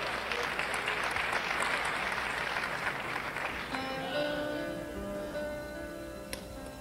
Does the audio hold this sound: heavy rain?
no